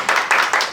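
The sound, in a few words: audience applause at tech talk event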